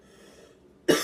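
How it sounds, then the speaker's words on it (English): A single sharp cough from someone recovering from illness bursts out near the end after quiet background, close and loud. "I'm basically just coughing out"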